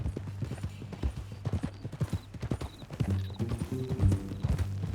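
Horse hooves clip-clop at an easy walking rhythm in the Red Dead Redemption 2 video game, close and distinct, with a brief whinny and low game sounds around them.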